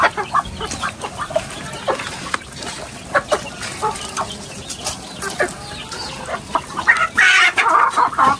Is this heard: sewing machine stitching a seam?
no